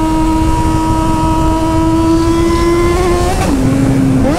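A loud Yamaha XJ6 motorcycle engine holds a high steady rev, then drops sharply in pitch as the throttle eases off, close and loud.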